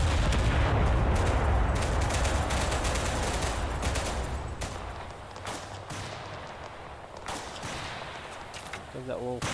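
Heavy bursts of rifle and shotgun fire in the Total Conflict Resistance war game, with rapid overlapping cracks and booms over a rumbling battlefield, loud at first and gradually thinning toward the end.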